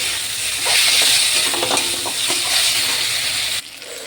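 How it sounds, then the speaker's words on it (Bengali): Goat fat fries in a pan with spice paste, giving a loud, continuous sizzle and hiss broken by scraping stirs, then quiets slightly near the end. "চর্বিটা দিয়ে আমি আর একটু কষে নেব।"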